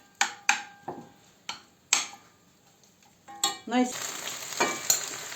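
A filling of mushrooms and onion stews in a pan, heard as a soft continuous sizzle under sharp clicks and knocks of a utensil striking the pan, spaced about every half second.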